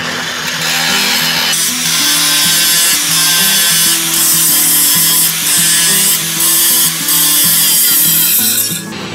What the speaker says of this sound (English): I'm gonna grind that weld off all the way now.